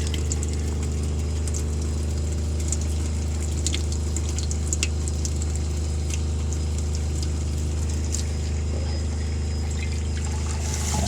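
Near-boiling water pouring from a camping water heater set to a low flow, a steady close hiss and trickle over a constant low hum, unbroken throughout.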